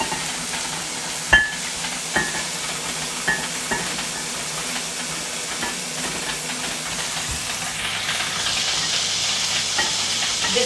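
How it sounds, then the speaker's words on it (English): Dumplings steaming in ramekins and cups give a steady soft hiss and sizzle with a few light clinks and taps, then the steam rises toward the end. "The sound that you are hearing is those ramekins and cups, the dumpling that is steaming."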